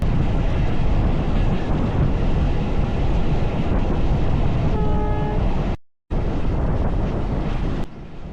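Train travelling toward Mongla railway station near Mongla port in Bangladesh; a loud, steady rolling rumble with wind buffeting and a sustained horn tone midway, then a brief cut and the rumble resumes.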